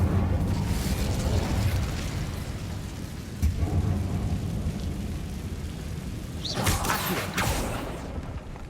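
An Incendio fire spell is cast in the video game Hogwarts Legacy: a loud, rumbling fiery roar that runs continuously, with sharper bursting blasts near the start and again toward the end.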